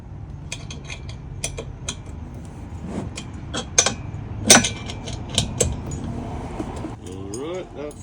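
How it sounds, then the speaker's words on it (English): Metal tools clink and tick in short, irregular bursts while bolts are tightened with an Allen wrench and a second wrench during assembly of a Jeep Wrangler door storage rack, with a few sharper knocks in the middle. "you're going to use the Allen wrench on the top and a wrench on the bottom to hold it"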